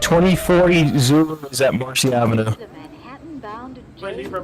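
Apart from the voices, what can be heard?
No distinct noise like a dog, phone or traffic.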